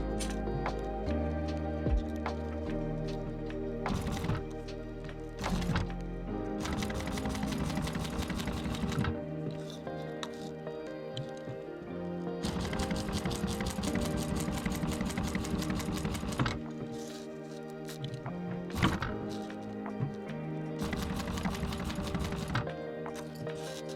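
A sewing machine sewing a laser-cut patch onto hook Velcro, running almost continuously in close, moderately loud bursts with a steady mechanical rhythm, stopping and restarting briefly several times.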